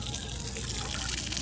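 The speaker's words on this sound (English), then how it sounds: "see the water comes out?" Water gushes steadily from a lever-operated tap at an elephant exhibit in a safari park, a continuous broadband rush that holds at an even loudness throughout.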